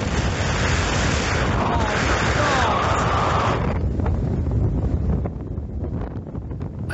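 Strong, ferocious wind buffets the microphone on an exposed Scottish upland, a loud roaring rumble that stays heavy and constant throughout, easing slightly toward the end, with a voice faintly audible beneath it.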